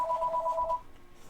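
Telephone rings in a room with a rapid warbling electronic trill, a short burst that cuts off abruptly, fairly near and alone without talk.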